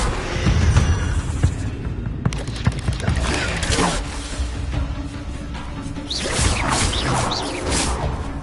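Hogwarts Legacy's Incendio fire spell cast in a fight against spiders: sharp whooshing bursts and crackling blasts land in quick succession, loud and close, with a brief voice in the background toward the end.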